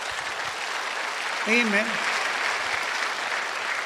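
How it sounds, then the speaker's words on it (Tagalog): Sustained applause fills the clip, a dense crowd clapping at steady volume during a Tagalog church sermon, with a voice briefly speaking over it. "Lakasan po natin yung palakpak."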